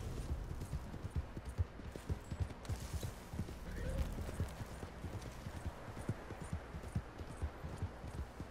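Horse hooves clip-clop steadily in a video game, a continuous rhythmic patter of fairly faint hoofbeats at a walking pace with a brief swell of noise in the middle.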